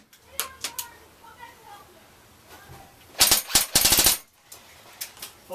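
Airsoft guns firing outdoors during a survival game, scattered single pops early on, then two close bursts of rapid shots. Players talk and call out between the bursts.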